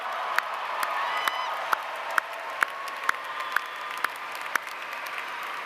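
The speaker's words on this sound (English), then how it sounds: "Let's give them a big applause." A large commencement audience applauds graduating master's students in a hall, a broad, even roar of clapping with cheers and a few louder claps ringing out at regular intervals.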